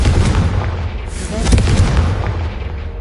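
A Confringo fire spell blasts in the Hogwarts Legacy game, a loud booming burst with a crackling, rumbling tail that fills the short moment, close and heavy.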